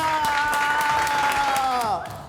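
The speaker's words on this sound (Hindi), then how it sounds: "तालियां" Studio audience claps at a comedy show introducing actor Vivek Oberoi, applause running under a held sung or musical tone that bends and fades, with a voice present over the clapping.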